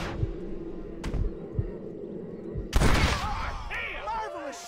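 A few sharp gunshots crack in Red Dead Redemption, spaced single reports over a low rumbling game backdrop, followed by a louder blast and lingering echoes with voices nearby.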